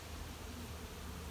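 Honey bees hum in a steady, soft, continuous drone on a board beside the hive during honey harvest and winterizing, with no voices.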